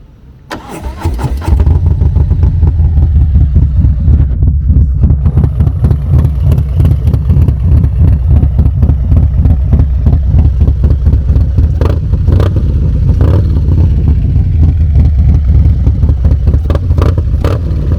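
A Harley 114 motorcycle fitted with an SS 475 cam cranks and fires up, then idles very loudly and close with a choppy, lumpy rhythmic pulse and occasional blips of throttle in a parking lot.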